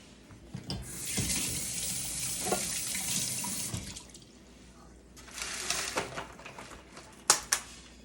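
Water runs from a kitchen tap into a sink during hand washing while making sugar cookies, a steady hissing stream for several seconds that stops, then resumes with splashing and a couple of clunks, with no talk.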